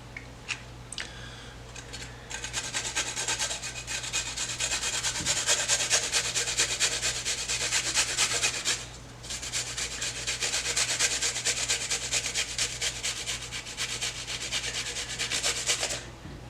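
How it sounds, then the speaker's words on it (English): A garlic clove is rubbed back and forth across a grater in a home kitchen while making spring rolls: a steady, close, dry rasping that runs almost without a break, pausing once midway, with no talk. "if you're ever grating garlic like this, be mindful of your fingers"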